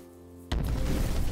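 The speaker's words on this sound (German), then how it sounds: "die explodieren dann in einem Feuerball" A mechanical spider in the video game Van Helsing explodes in a fireball: after a low hum, a single sudden loud blast erupts and rolls on as a roaring burst.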